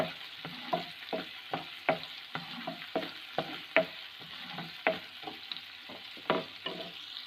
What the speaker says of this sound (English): I added some chopped onion, and I'm going to fry until it becomes brown in color